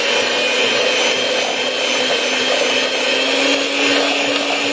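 Brownie batter churns in an electric mixer with a steady, very loud whirring drone, a constant high grinding motor tone that holds without pause and drowns out everything else.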